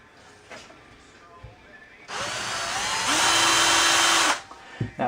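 A power drill bores a punch-marked hole in metal on a Datsun truck kingpin rebuild, spinning up and biting in with a loud, rising whine for about two seconds before stopping, with faint clatter before and after.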